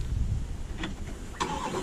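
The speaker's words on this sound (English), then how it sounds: "So when you start the car like that" A Chevrolet Corvette C8 engine starts: a brief crank and a sharp catch near the end, close and fairly loud over steady low rumble.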